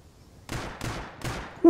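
Gunfire from the survival video game Rust cracks out in three sharp bursts about a third of a second apart, each with a short echoing tail, followed by a voice starting to speak.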